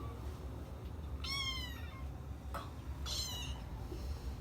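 A house cat meows twice, faint and short, with a soft tap between them over a low background hum.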